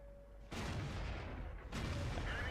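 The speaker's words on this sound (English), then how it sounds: "And there we fire a regular HE round onto his weak cupola to take him out." A tank cannon in World of Tanks firing a high-explosive round: two loud, close booming blasts with long rumbling decay, the second following just over a second after the first.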